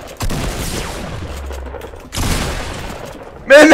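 Gunfire from Fortnite, bursts of rapid shots with a louder blast at the end, close and harsh, with game noise between the bursts.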